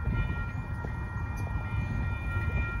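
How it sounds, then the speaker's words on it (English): A northbound Amtrak Texas Eagle passenger train rumbles steadily past nearby at Center Street in Kyle, Texas, its low roar and rolling wheel noise filling the whole stretch with no talking. "here comes Amtrak coming by"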